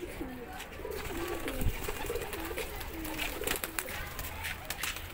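A pigeon coos in soft repeated rolling phrases close by, against a faint, noisy background.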